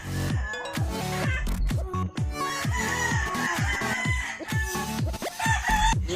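Hybrid gamecock rooster in a backyard fighting-cock farm in Lapulapu City, crowing loudly and close, with repeated harsh calls mixed with sharp clucks and camera-like clicks in a busy, uneven rhythm.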